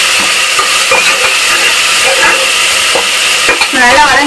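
Spices and chili powder sauté in a hot pan at home, a loud continuous sizzle and hiss with a spoon scraping and stirring in irregular strokes, close and alone.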